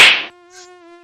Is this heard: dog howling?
no